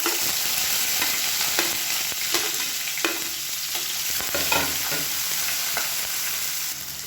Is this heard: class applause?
no